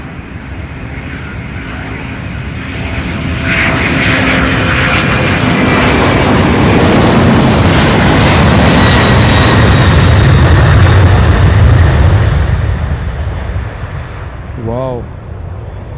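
An MD-11 takes off at Louisville International Airport by the UPS Worldport. Its loud, broad jet roar builds over a few seconds, holds strong through the middle and eases off toward the end.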